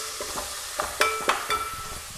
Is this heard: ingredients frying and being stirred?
yes